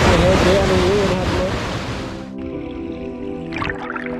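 A waterfall pours into a deep river pool, making a loud, steady broadband rush for about two seconds before abruptly dropping to a muffled, lower hum.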